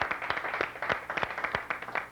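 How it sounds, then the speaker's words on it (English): An audience gives a round of applause for Milliken High School at a Challenge Bowl competition, with steady, moderately close clapping throughout. "let's start off with a big round of applause for Milliken High School, champions of the winners round"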